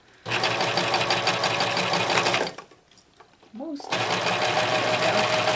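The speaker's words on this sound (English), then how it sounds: "as I am stitching the beads, I am pulling, however far that fabric moves is how far I move those beads along with it" A serger fitted with a beading foot stitches beads onto fabric, running in fast, loud, close bursts. The machine pauses briefly between the two runs, and a voice speaks during the pause.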